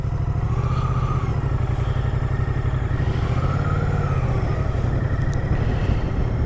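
A 2024 Moto Guzzi V100 Stelvio motorcycle rides slowly through sand, its deep engine rumbling steadily and close by with gentle rises in revs.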